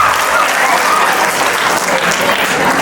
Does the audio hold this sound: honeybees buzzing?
no